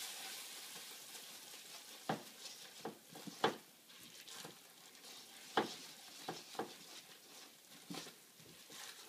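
Baking soda and vanilla being stirred into hot caramel sauce, a faint fizzing sizzle with scattered scraping and clinking strokes of a utensil against the pan, quiet and intermittent.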